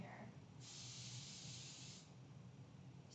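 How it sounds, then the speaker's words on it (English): Non-stick cooking spray hisses onto baking pans for pumpkin bread in one steady burst of about a second and a half, close and fairly loud, followed by a second short spray. "Spray your pans with non-stick spray."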